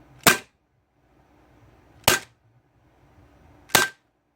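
Three sharp, loud cracks from a Beretta Px4 Storm CO2 pistol with heavy blowback, spaced about two seconds apart, each a crisp isolated snap with a faint hissing tail.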